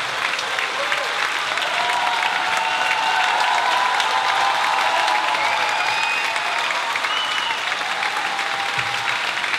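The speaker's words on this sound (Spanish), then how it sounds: "Un aplauso para él." Audience applause for the arranger at a Mother's Day serenade concert, a steady, dense wash of clapping from a crowd that holds evenly for the whole stretch, with a few faint voices and whistles mixed in.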